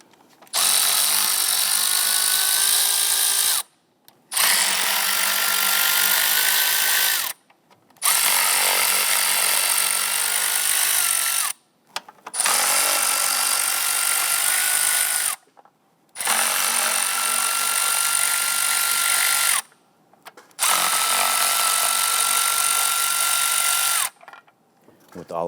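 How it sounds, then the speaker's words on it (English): A power ratchet or drill spinning a 5/16 socket to loosen the upper intake bolts on a 2011-2021 Jeep Grand Cherokee 3.6L, loud close bursts of whirring, six runs separated by short silent pauses. "Using a 5/16 socket, go ahead and loosen the upper intake bolts."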